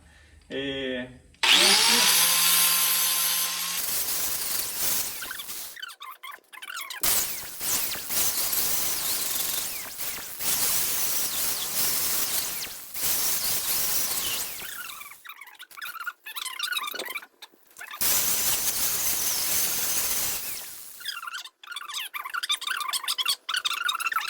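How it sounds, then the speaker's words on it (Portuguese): Flap disc on an angle grinder sanding painted scrap metal while a reinforced homemade rake is built, a loud, sustained abrasive whine running in long bursts with brief pauses between passes. "aí eu vou dar uma leve lixada utilizando aqui o disco flap"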